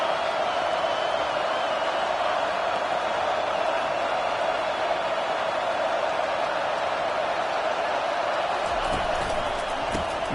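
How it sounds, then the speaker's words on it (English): College football stadium crowd roaring early in a game, a dense, sustained wall of cheering and noise at steady loudness throughout, with a brief burst of extra commotion near the end. "This crowd bringing the energy and noise early."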